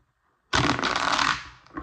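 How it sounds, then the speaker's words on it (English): A deck of tarot cards being shuffled close by, a dense papery riffle that starts abruptly after a moment of quiet and runs steadily for over a second before tapering off. "just let me shuffle."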